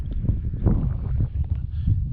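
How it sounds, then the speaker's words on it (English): A breeze blowing across an open hilltop at a free BLM campsite near Garnet Hill in Ruby, Nevada, heard as soft, uneven low rumbling gusts hitting the microphone, moderately loud and continuous, with no one speaking. "there's a nice breeze going"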